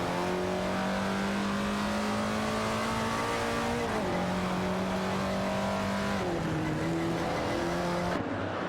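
Ferrari 250LM and Shelby Cobra 427 race cars in a video game race, their engines droning loudly and steadily with rising and falling pitch as they shift and accelerate, continuous throughout.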